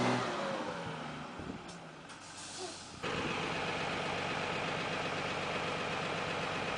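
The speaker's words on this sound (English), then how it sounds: "He tried to step on the accelerator several times but could not get away." A 10-ton military truck stuck in a quagmire, its engine idling and knocking, then revving hard into a loud, sustained, steady roar for the second half.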